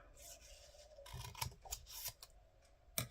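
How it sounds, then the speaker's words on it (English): Scissors snip off excess paper in a papercraft journal project, a few quiet close crisp cuts and rustles, faint with no talking. "Just cut off the excess."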